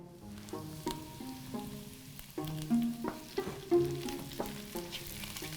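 Rosemary frying lightly in lard beside beef rolls and potato dumplings, a steady close sizzle broken by scraping and stirring clatter, with a few sharper pops and clinks in the second half.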